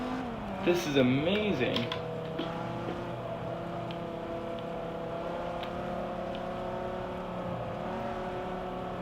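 Race car engine held at full throttle in the Forza racing game, a sustained droning roar with a sweeping pitch change early on while someone talks briefly over it.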